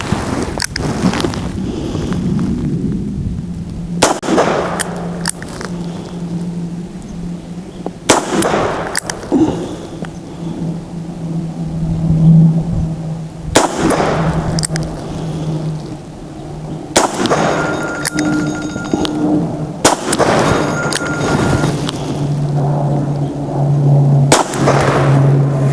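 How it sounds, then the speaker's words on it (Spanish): Single-action shots from a Rossi 873 .357 Magnum revolver, fired one at a time with several seconds between them, each a sharp loud crack with a brief tail over steady wind noise outdoors. "vamos a disparar ahora en acción simple al target que está arriba a la derecha, la misma distancia"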